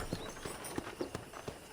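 Horse hooves clip-clop in the Red Dead Redemption video game, a steady walking rhythm of about six distinct hoofbeats over soft ambient outdoor noise.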